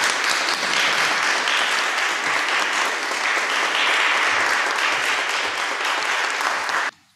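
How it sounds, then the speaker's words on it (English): Conference audience applause at an academic session: a loud, continuous burst of many hands clapping, sustained and even throughout, then cutting off abruptly at the end. "applause."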